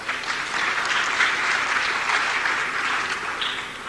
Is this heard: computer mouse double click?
no